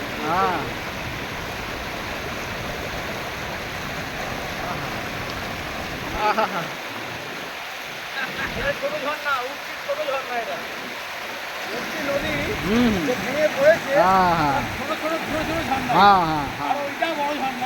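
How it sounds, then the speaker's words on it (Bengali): Usri waterfall at Giridih, Jharkhand, roars as a steady broadband rush of falling water throughout, with people talking intermittently over it in the second half. "ওটা বড় ঝর্ণা"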